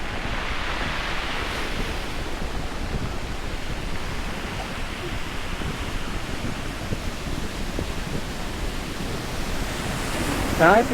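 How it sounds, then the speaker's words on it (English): Waves breaking steadily in the bay at Playa de los Terrajales, Tenerife: a continuous broadband wash of surf with wind noise, rising slightly near the end. "Lovely waves coming in today in the bay."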